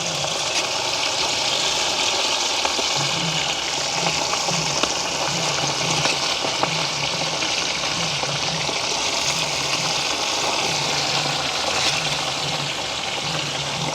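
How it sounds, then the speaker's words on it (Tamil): Pieces of pre-boiled meat frying in hot coconut oil in a village kitchen pan, a dense, steady sizzle and crackle that runs loud and unbroken throughout, with a faint low hum underneath. "அவிச்சு வச்சுருக்கிற இறைச்சியை நாங்கள் பொரிய போட்டுக்கொள்வோம்."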